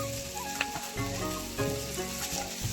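Egg bhujia tossed with chowmein in a pan makes a soft, steady sizzle over a background hum, with a few spatula scrapes and knocks.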